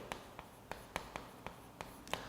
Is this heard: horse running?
no